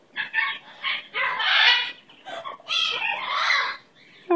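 A pet bird squawks in a series of loud, harsh, close calls, several bursts in irregular succession with short pauses between them.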